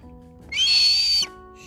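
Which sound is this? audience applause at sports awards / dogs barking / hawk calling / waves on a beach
hawk calling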